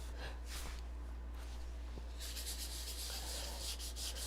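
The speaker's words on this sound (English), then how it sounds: "I'm going to distress them a bit, just with a very fine piece of sandpaper" Very fine sandpaper on a small sanding disc rubs back and forth across stencils in quick, scratchy strokes, close and quiet, with the strokes growing brisker and more rhythmic in the second half.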